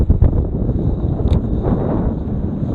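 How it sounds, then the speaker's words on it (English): Gusty wind buffets the microphone out on the water during a fishing trip, a loud continuous low rumble with fluctuating rushes. "The wind's blowing in my face too"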